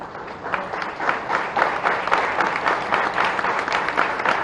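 A crowd at a public event in Bhopal applauds to welcome an honoured guest onto the stage, with dense, continuous clapping that swells a little after the first second and holds steady.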